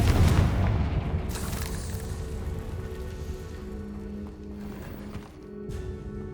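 A Confringo fire spell in Hogwarts Legacy bursts as a heavy, booming explosion right at the start, then trails off into a rumbling, crackling tail with a few faint thuds.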